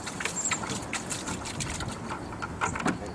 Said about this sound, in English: splash a little water in.